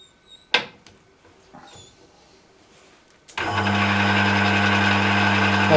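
An Emco Maximat V10-P lathe running at 240 rpm with a slightly rattly sound starts after a few faint knocks and then holds a loud, steady hum with strong low tonal bands until the end.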